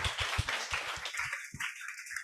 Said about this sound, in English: So please give a round of applause to everyone here